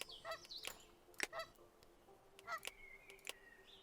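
Cartoonish goose honks from the zoo-building video game Let's Build a Zoo, several short separate calls spread over a few seconds, quiet and clear with no talking.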